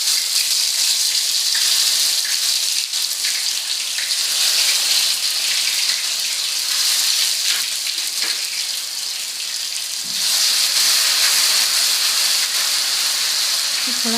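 Ginger garlic paste dropped into half a cup of hot oil in a kadai, giving a loud, steady hiss and crackle that runs unbroken and close, surging briefly partway through, with no voices over it.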